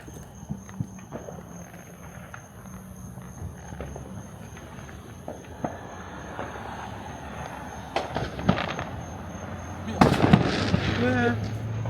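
Fourth of July fireworks crackle and pop at a distance, scattered bangs building to a denser burst toward the end, with people talking and a voice nearby.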